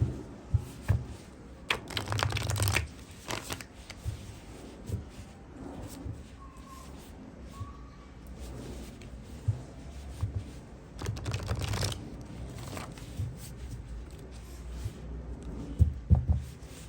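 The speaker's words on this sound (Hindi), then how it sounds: "इस डेक से भी मैं 3 कार्ड ऐसे ही लूंगी" Tarot cards shuffled and drawn from a deck, soft riffling flutters and quick card snaps in irregular bursts, fairly quiet and close, with no talk.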